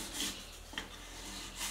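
Sandpaper rubbing over the edges of old wooden furniture being restored, a soft rasping scrape in two or three short strokes, fairly quiet and close with no talking.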